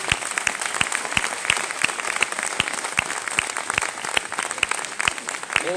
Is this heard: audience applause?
yes